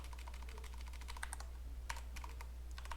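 Keys clacking on a computer keyboard while HTML is typed, a steady run of quiet, close taps with a few louder bursts over a constant low hum.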